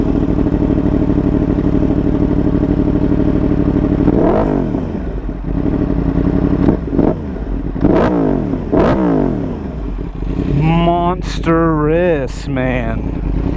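A custom 2015 Yamaha R1M motorcycle idles loudly with a deep, steady rumble, then revs in several sharp rising bursts, the last ones quick and high; a voice talks briefly near the end.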